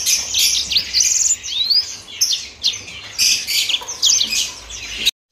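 Several Mozambique canaries sing in lively, overlapping bursts of bright chirps and trills, close by, continuing steadily before stopping abruptly at the end.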